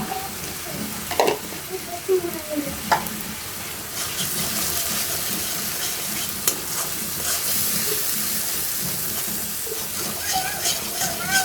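Ground cumin and coriander masala frying in a pan for patol korma, a steady sizzle with scraping stirs and a few sharp clinks, some faint talk and clatter in the kitchen around it.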